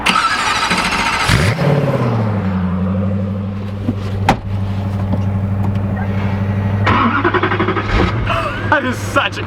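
A Koenigsegg Agera R supercar engine fires up with a sharp burst, then settles into a deep, steady idle with occasional blips, close and loud.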